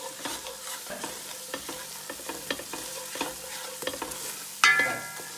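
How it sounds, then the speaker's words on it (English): Tomato paste sizzling and caramelizing in a hot pan while a spoon stirs it, a steady close fry with repeated scraping strokes and a louder burst near the end, no voices. "Now add your tomato paste. And you want this to caramelize just for about 30 seconds."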